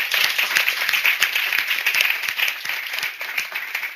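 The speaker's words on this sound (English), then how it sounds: "I think they deserve another round of applause." An audience at a career transition panel gives the panelists a round of applause, a dense, even wash of clapping that stays steady from start to finish.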